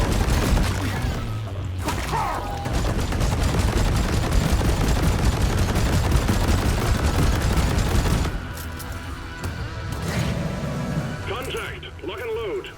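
Heavy gunfire from a solo gunner into swarms of grunts in Deep Rock Galactic, a dense roaring barrage for about eight seconds that then drops to scattered bursts and booms, with voices underneath.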